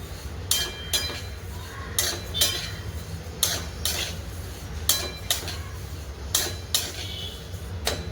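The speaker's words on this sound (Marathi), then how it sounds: "ही एक किलो बडीशेप आहे छान अशी भाजून घ्यायची" A kilogram of fennel seeds roasts in a hot kadhai while a spatula sweeps through it in regular strokes, making close, rhythmic metallic scrapes and clinks over a rustle of dry seeds.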